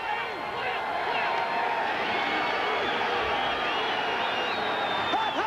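Stadium crowd at a 1992 World League of American Football game between Orlando Thunder and Birmingham Fire cheers and roars in a steady distant wash, rising in excitement before a third-down play, with a few whoops carrying over the babble.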